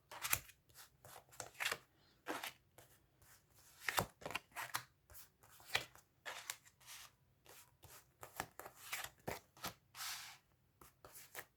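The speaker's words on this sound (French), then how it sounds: "on va prendre 9 cartes" Tarot cards are drawn and handled one after another in short, crisp flicks and shuffling rustles, fairly close and quiet, in an irregular rhythm.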